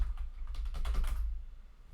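Quick keystrokes on a computer keyboard as a terminal command is typed, a short burst of close, crisp clicks over a low hum, ending in quieter room tone.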